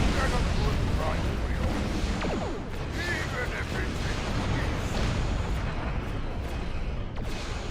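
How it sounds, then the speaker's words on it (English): Torpedo launches during space combat in the video game Star Trek Online, a dense, continuous rumbling barrage of booms and blasts, loud and steady throughout with layered weapon fire. "Fire off the torpedo, please."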